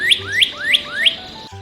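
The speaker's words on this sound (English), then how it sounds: "The cardinal is a bright red bird with a pointy crest." A songbird, a cardinal, repeats four clear rising whistled phrases in steady rhythm, close and bright, with no voices.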